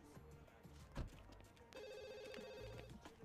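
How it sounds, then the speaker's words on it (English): Telephone ringing in The Sims 2 video game, a repeated trilling bell tone at moderate level heard amid game sounds and brief clicks, with a short burst of other game noise before it. "Oh, someone's phone's ringing."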